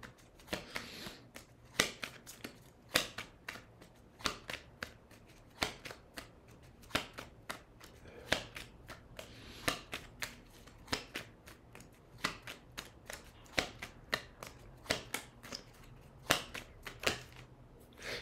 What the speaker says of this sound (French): Allez, on va prendre une dernière carte.